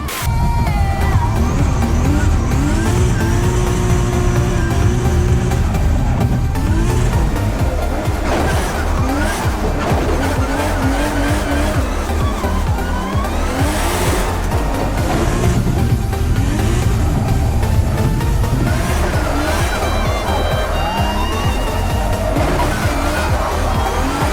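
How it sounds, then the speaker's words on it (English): A car being driven hard around a drift track at a drift day, engine revving and tires squealing continuously at loud, close range for the whole stretch, with occasional sharper bursts. "Just going to see if I can get out on the track and just drive around it"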